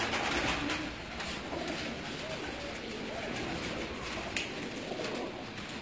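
Racing pigeons on a rooftop in Gujrat district coo softly during a 2018 cup flying contest, faint calls set against a steady wash of outdoor noise.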